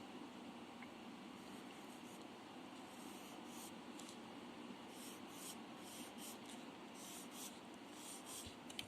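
Pencil strokes drawing pineapple leaves on paper: steady, soft scratchy rubbing that continues the whole time, close and quiet, with brief brighter scratches toward the end.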